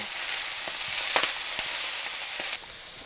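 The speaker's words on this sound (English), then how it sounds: "So you want to cook the greens till they're wilted down, but they still have some body to them." Beet greens wilt in hot oil in a large skillet, giving a loud, continuous close sizzle with a few brief stirring bumps and no talk.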